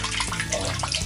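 Thin stream of water trickling steadily from a small mini water pump, a soft continuous splashing close by with no talk.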